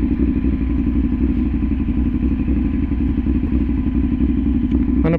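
A motorcycle engine runs steadily at close range on a Manila street while being parked, with a low rumbling drone and occasional clattering thumps, loud and continuous throughout with no talk.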